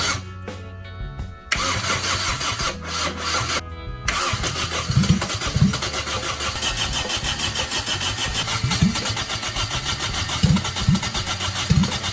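A 30-year-old Toyota engine cranks with the key in a few short bursts, catches, and settles into a steady, close running hum with periodic revs.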